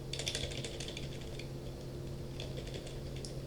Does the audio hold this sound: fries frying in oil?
no